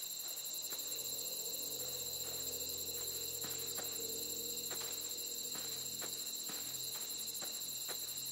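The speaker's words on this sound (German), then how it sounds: "Grillenzirpen setzt ein." Crickets chirp in a dark night scene in the video game The Beginner's Guide, a constant high shrill drone with faint scattered clicks beneath it and no talking.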